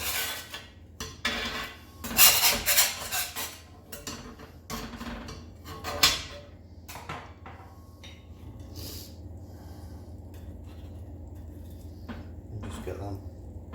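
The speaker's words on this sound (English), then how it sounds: "we're going to flip these over. I use a paint scraper, clean one" Sourdough cheese and onion muffins flipped on a hot surface with a clean metal paint scraper, making a dense run of close scraping and clattering strokes that thin out into quieter rubbing, with some faint speech.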